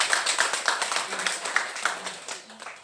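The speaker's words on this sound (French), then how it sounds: "Alors on applaudit beaucoup pour le Shabbat" Church congregation clapping together at a Sunday Mass, a steady patter of many hands with soft voices mixed in, moderately loud throughout.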